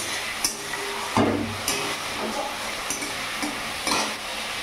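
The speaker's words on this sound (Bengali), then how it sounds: "এখানে আমার মশলাটা কষানো হচ্ছে।" Masala spice paste fries in a wok while being stirred, a continuous close sizzle broken by repeated scraping strokes and light clanks of the spatula against the metal, with no talking.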